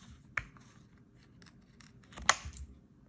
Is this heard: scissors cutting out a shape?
yes